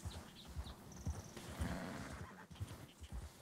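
Horse hooves clip-clop at an even pace in Red Dead Redemption 2 as a tamed white horse moves along, with a faint neigh and low game ambience underneath.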